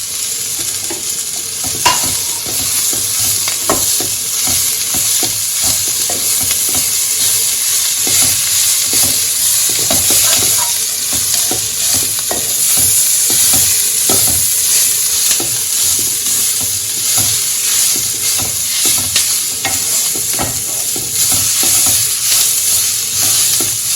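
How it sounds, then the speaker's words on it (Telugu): Fresh coconut and mint leaves frying in a pan, a loud, continuous sizzle broken by frequent scraping and stirring clicks of a spoon against the pan, close up and steady throughout. "ఇప్పుడు ఈ పుదీనా ఆకును కూడా ఇందులో వేసి వేపుకుంటున్నానండి."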